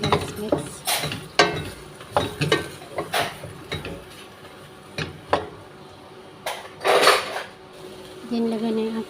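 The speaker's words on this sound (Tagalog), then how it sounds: "lagay na natin yung ating carrot at saka patat. Then, yung ating broccoli. Mix lang natin guys, mix." Carrot, potato and broccoli are stirred in a pot for broccoli soup, with irregular clanks and scrapes of a utensil against the pot, close and fairly loud, separated by brief pauses.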